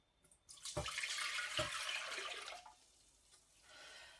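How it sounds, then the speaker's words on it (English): Apple juice, about 900 ml, pours into a pan on a stovetop, a steady close splashing liquid stream lasting a couple of seconds with a couple of small knocks, then tapering to a quieter trickle. "Next, to a pan on the stove, we're adding 900 mils of apple juice."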